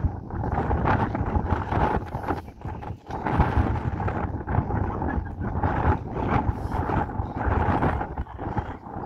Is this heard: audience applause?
no